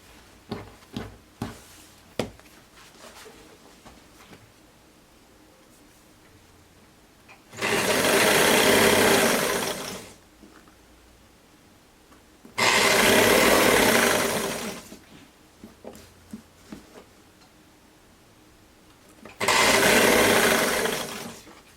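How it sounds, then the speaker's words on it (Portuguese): Three loud, close bursts of a sewing machine stitching along marked lines on fabric for a child's gypsy-style jumpsuit, each run lasting a few seconds, separated by quieter handling and fabric rustling. "Aí eu vou seguir todas essas linhas costurando."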